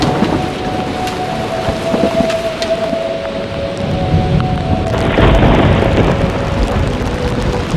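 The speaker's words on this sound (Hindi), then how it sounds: "बारिश फिर से शुरू हो गई है।" Heavy rain pours with rumbling thunder on a mountain trail to Kedarnath beside the rising Mandakini river, a steady dense wash with a faint sustained tone running through it and a louder swell toward the end, no voices.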